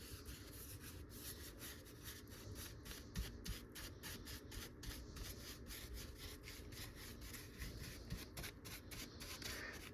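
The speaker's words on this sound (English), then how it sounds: "And we're just going to lightly brush over the steering wheel here." A brush loaded with cleaner scrubs across the leather steering wheel of a third-generation Toyota 4Runner, making a continuous, rhythmic rubbing and scratching sound with regular back-and-forth strokes and no talking.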